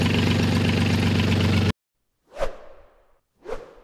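A yacht's marine diesel engine idles with a steady, dense mechanical hum for under two seconds and then cuts off abruptly. Two separate swooshing sounds follow.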